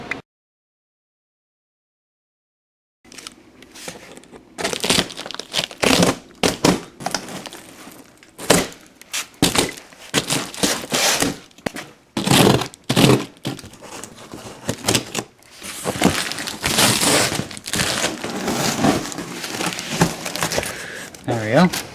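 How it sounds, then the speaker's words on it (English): Cardboard and plastic packaging is pulled out of a box during an unboxing, with rustling, crinkling and thumps in irregular bursts after a silent start, while someone talks over it. "Take out the packaging."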